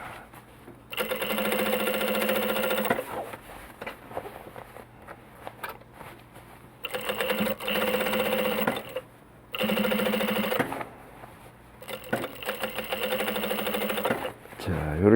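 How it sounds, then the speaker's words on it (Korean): A sewing machine whirs in several loud runs of rapid stitching along the hem of men's Polo shorts, with brief pauses between runs and a voice speaking at times. "좀 조심해서 스테치 작업을 합니다"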